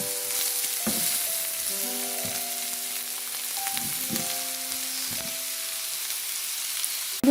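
Boiled potato being stirred together with fried ingredients in a pan, with a steady sizzle throughout and a few soft scrapes of the spatula, close by, while faint tonal sounds ring in the background.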